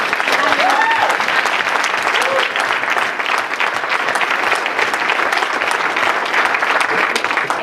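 A crowd applauding at an award ceremony for a safety and health trainer and educator: loud, continuous clapping from many hands that holds steady for several seconds, with some voices faintly mixed in.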